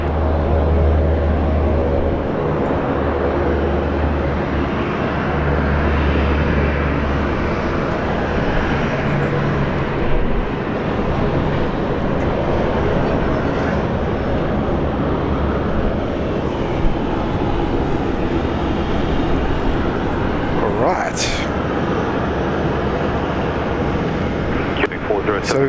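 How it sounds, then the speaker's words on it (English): Airbus A380 airliners from Qatar and Emirates arrive at Sydney Airport, heard as a broad, steady roar of distant jet engines lasting throughout, with wind noise and someone talking over it. "So we've got Qatar and Emirates A380 inbound."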